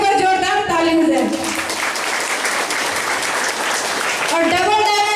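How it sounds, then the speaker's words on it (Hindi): A crowd at a Safe Shop seminar in India breaks into loud, sustained applause, with a voice talking at the start and again near the end over the clapping. "इनके लिए एक बार जोरदार ताली हो जाए।"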